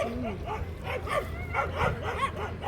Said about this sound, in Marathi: तिकडे जरा कुत्र्यांचं भांडण चालू